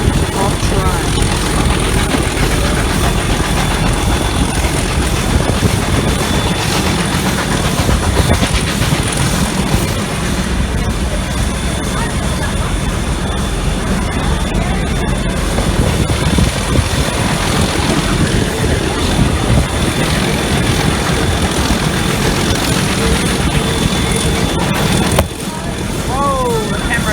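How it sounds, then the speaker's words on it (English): Diesel train hauling a steam train rumbling past near a river, a loud continuous broadband roar with clanking lasting throughout, close by and steady, fading slightly near the end. "Sound of train."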